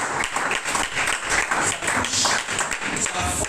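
A church congregation applauding during a sermon, dense sustained clapping from many hands filling the room at a steady, fairly loud level.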